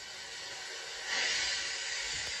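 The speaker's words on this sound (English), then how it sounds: "when Thomas let off steam" A toy wooden steam engine lets off steam: a steady broadband hiss swells suddenly and then holds, loud and close, over a low background with no talk.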